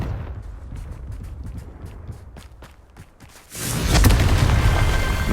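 In the Hogwarts Legacy video game, the fiery Confringo spell goes off with a sudden loud boom about three and a half seconds in. Brief rustling and footstep-like clicks come first, and a roaring, crackling blast follows.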